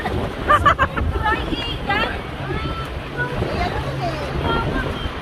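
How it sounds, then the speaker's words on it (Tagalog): Strong gusts of wind buffet an outdoor street scene, rumbling and roaring in uneven surges while voices chatter in the background. "It's windy here today."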